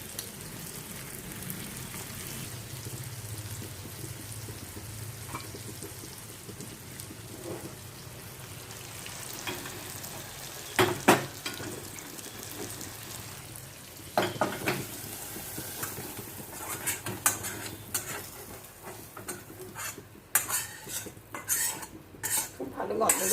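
Potol (pointed gourd) fries in a pan with a soft continuous sizzle, while a utensil scrapes and clinks against the metal as it is stirred, the clatter growing busier and louder toward the end.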